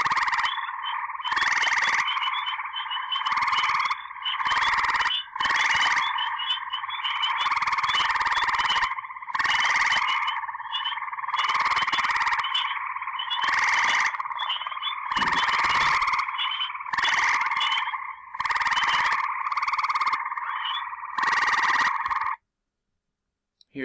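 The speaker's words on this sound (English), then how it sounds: "The loud, resonant trill of the eastern gray tree frog is slower, longer, and more melodic than that of Cope's gray tree frog." Eastern gray tree frogs give loud, resonant, melodic trills in long repeated bursts separated by short gaps, with spring peepers, a leopard frog and occasional green frogs calling among them in a backyard wetland chorus.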